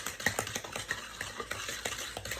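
Batter for a homemade carrot cake being mixed by hand with a Danish whisk, giving a steady run of soft, rhythmic scraping and slapping strokes close up, with no voices.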